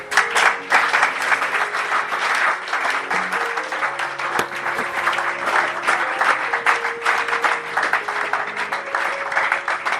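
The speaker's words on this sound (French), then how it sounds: "Nous allons acclamer très fort le roi des rois." A church congregation applauding loudly, with dense continuous clapping and some cheering throughout, close and sustained.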